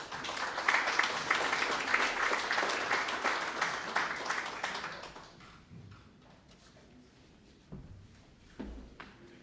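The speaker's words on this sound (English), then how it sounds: "Please give him a big round of applause." Audience applause at a workshop, a steady wash of many hands clapping for about five seconds before fading out, followed by quieter room noise with a couple of faint knocks.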